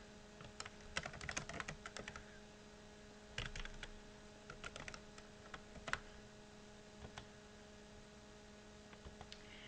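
Keys on a computer keyboard clatter in irregular bursts of light taps, faint and close over a steady electrical hum, with no voices.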